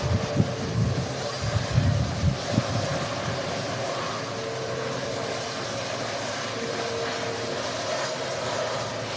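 Airplane passing during strong crosswinds at Manchester Airport, a broad steady engine roar with gusty wind buffeting the microphone, loud and sustained.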